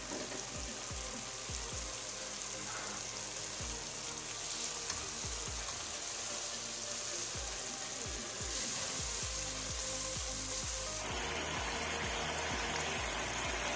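Masala spices frying in oil in a pan for an egg gravy, a steady loud sizzle with repeated stirring scrapes, close and continuous, growing brighter near the end.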